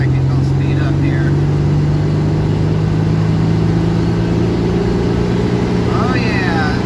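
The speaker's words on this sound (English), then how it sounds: "Oh yeah, that 120 horsepower speed rolling. Listen to that. Sounds beautiful." Steady drone of a 120-horsepower engine running at a constant pace, with a strong low hum and a few faint high squeaks, continuous and close throughout.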